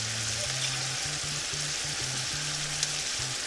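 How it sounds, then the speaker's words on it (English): Butter hits a hot pan of nearly cooked shrimp for shrimp scampi, giving a steady, close sizzle and hiss, with a low tonal hum pulsing underneath throughout. "And now I'm going to add my butter."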